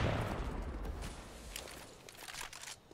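Gunfire in a Counter-Strike match on the de_dust2 map: a rapid burst of shots at the start fading into scattered distant pops, fairly quiet overall.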